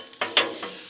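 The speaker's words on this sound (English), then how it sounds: "Love that sound right there. Sound of the sizzle. Sizzle of the Blackstone." Bacon sizzling on a Blackstone griddle, with a steady hiss broken by a few brief louder crackling bursts, close and alone.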